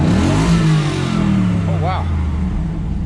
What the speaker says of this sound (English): I didn't even know I could rev it that high.